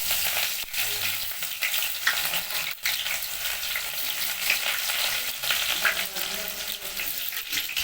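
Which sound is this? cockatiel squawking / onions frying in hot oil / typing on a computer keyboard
onions frying in hot oil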